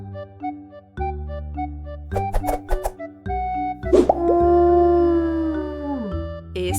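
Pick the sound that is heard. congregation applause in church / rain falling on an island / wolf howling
wolf howling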